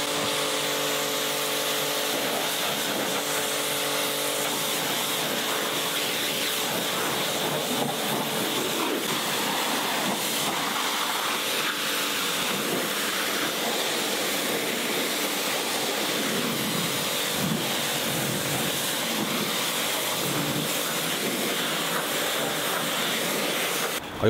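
A Nilfisk D140 pressure washer jet-sprays a car, a loud, steady broadband hiss of spraying water that runs unbroken for the whole stretch, with no voices.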